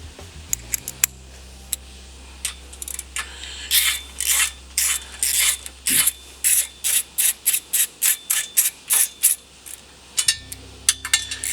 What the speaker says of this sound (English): Next thing we're gonna do is take these 4 bolts out here.